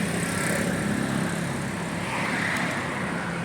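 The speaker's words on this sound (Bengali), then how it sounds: "গাড়ির ইঞ্জিন" A parked car's engine running, a steady broadband rumble and whir holding even for several seconds, moderately close, with no talking.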